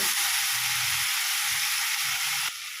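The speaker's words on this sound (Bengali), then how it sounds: "নুনটা দেওয়ার কারণে টমেটোটা খুব তাড়াতাড়ি গলে যাবে। এভাবে আমি 2 মিনিট নাড়াচাড়া দিয়ে নেব।" Tomato with salt stirred and frying in a pan: a steady, close, bright sizzle and hiss with faint soft stirring scrapes underneath, running continuously and stopping abruptly near the end.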